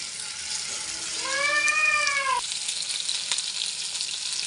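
Chili chicken pieces frying in a wok, a continuous close sizzle with a short meow-like animal cry rising over it midway, no talking.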